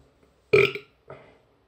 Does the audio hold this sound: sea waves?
no